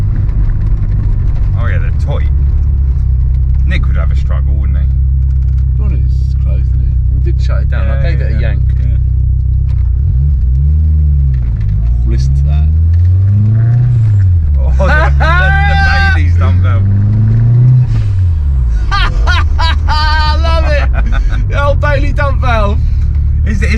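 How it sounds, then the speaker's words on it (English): A 2.0 turbo Ford Escort Series 1 engine rumbles at low pitch, swelling and rising through revs, with a turbo hiss and a Bailey dump-valve flutter between. People chatter in the background. "the Bailey dump valve that is just iconic."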